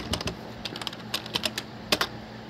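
Fingers tap out a short burst of keystrokes on a computer keyboard, quick irregular clicks heard close and alone in a quiet room.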